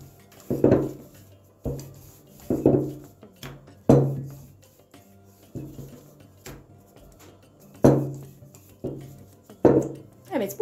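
A rolling pin works floured pizza dough for mini pizzas in repeated strokes, each a soft rumbling roll and knock on a board, spaced about a second apart and close by. A person talks briefly in between.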